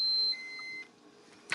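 An electric pump beeps with a high, steady electronic tone, then cuts off, followed by a brief quiet hum and a short click near the end.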